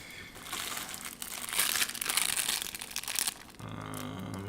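Packaging crinkles and rustles as a package is unboxed, with bursts of crackling plastic up close and quieter handling between them.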